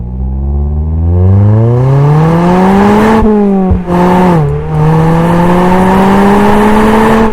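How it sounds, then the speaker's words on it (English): A modified Mazda MX-5 Club Edition's 2-liter engine rasps and booms through Fujitsubo exhaust tips as revs climb steadily, briefly dip between gears, then drone on loud and close. "exhaust gases being pumped out of that 2-liter engine being pumped out of the Fujitsubo exhaust tips"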